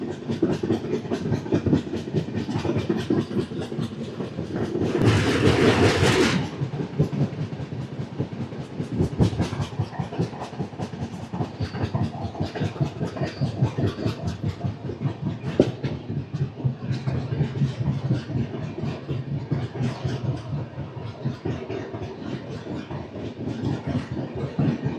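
Korba Express 18518 running on rails past a mining area, a steady on-board rumble with rhythmic clickety-clack of wheels over joints and a brief louder rush midway, no voices.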